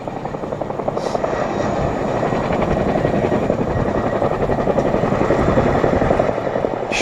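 An RAF Chinook twin-rotor helicopter hovering at an air display, a loud, close, steady rhythmic rotor thump with engine whine that holds for several seconds, with no voices.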